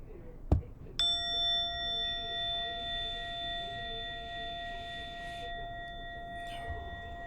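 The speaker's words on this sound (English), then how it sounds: "in a moment you'll hear a bell or a chime" After a soft knock, a single clear bell chime rings out and slowly fades away over several seconds, ringing steadily above a quiet background.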